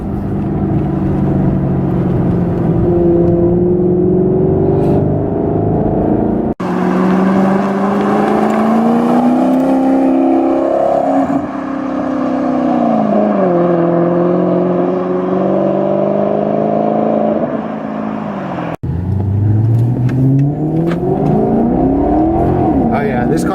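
A 2012 Maserati GranTurismo S engine revs loudly while driving, its tone climbing and falling through gear changes, with sharp breaks between pulls; a voice may talk over it at times.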